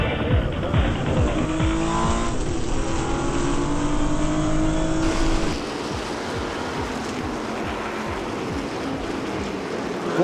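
A Porsche 917 race car of about 600 horsepower roars past at speed, engine pitch sweeping as it passes, then a steady lower engine drone continues.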